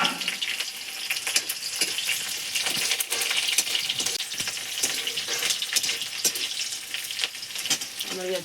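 Onions fry in mustard oil with fenugreek seeds in a wok, a dense, bubbly sizzle close by and fairly loud, steady throughout with no speech over it.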